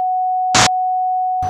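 A steady pure sine tone holds F-sharp throughout, interrupted by a short burst of noise midway and another near the end.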